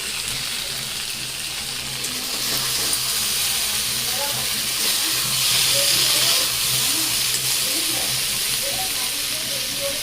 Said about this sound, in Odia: ଏଠି ଆଳୁ ଆଉ ବାଇଗଣ ଭଜା ହଉଛି